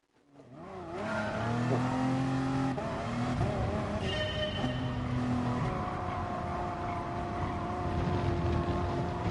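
An engine in a racing video game time trial revs up hard from a near-silent start, then holds a loud, steady drone, with whining gear shifts and pitch changes as it runs.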